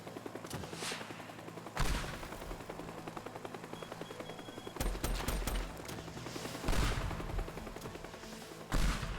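Enemy gunfire in a Goosebumps video game: bursts of rapid shots crackle over a steady game soundscape, with heavier volleys and loud impacts at intervals, fairly close and continuous.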